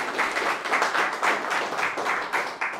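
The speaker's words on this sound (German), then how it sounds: "Gut, mal einen herzlichen Applaus." Audience in an art gallery claps warmly, a fairly faint burst of applause with uneven pulses of hand claps that continues steadily without talk.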